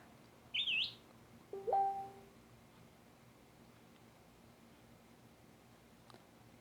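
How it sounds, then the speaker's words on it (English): Small birds chirp nearby in a home kitchen where cucumber is being sliced for a vegan sandwich, two short tweeting calls about a second apart over quiet room tone. "Pardon the chirps."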